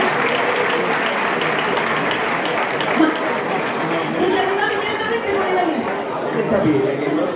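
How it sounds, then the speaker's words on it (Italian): Sustained applause from an audience at an Italian awards event, a dense, steady wash of clapping with crowd chatter mixed in, continuing at even loudness throughout. "però facciamolo un bel applauso."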